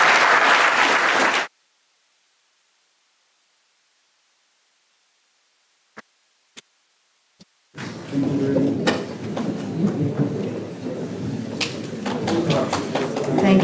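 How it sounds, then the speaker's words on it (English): An audience at a university School of Agriculture event bursts into loud, dense applause after a short gap of silence, sustained and continuous to the end, with a brief fragment of talk before the quiet. "Everyone, please give a round of applause."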